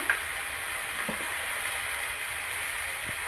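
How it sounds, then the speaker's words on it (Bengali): Ground chili paste sizzles steadily in hot oil in a home kitchen pan, a continuous close frying hiss with a couple of faint stirring knocks and no voices. "আমি এখন লঙ্কা বাটা অ্যাড করব"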